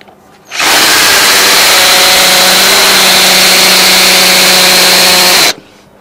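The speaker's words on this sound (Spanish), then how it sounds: "Con una broca de 10 y ni se inmuta" A power drill fitted with a 10 mm bit runs at full speed in one loud, steady whir for about five seconds, with a constant pitch that starts and stops abruptly.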